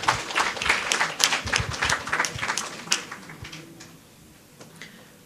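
Applause and clapping from an audience at a primary school spelling bee in St. Lucia, a dense round of claps that fades out over the last couple of seconds.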